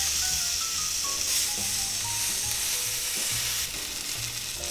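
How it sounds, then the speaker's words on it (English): Steak fat crisping in a hot pan after sous vide cooking of a thick London broil, a steady close sizzle and hiss with faint scraping and clinks of a utensil, no voices. "Any little bit of fat that's there, crisp it up a little, make it taste good."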